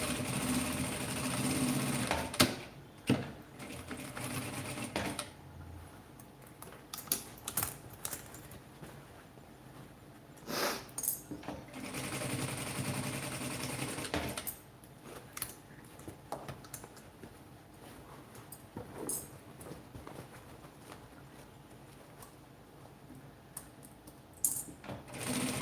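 A domestic sewing machine stitches a bag handle seam twice through fabric scraps, running in short bursts of rapid clatter separated by pauses and quieter handling noises.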